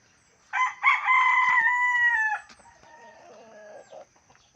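A rooster crows loudly nearby, one long drawn-out call, followed by softer clucking as it trails off.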